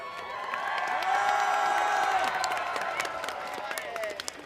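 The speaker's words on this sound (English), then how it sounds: "Crowd coming alive for Cutie." A crowd in an archery streamer game cheers and claps, a swelling wash of cheers with scattered shouts, while a voice talks over it.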